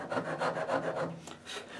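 Rasp filing a wooden guitar neck built from scrap wood, close rhythmic rough scraping strokes repeating about every quarter second, loud and alone with no talk.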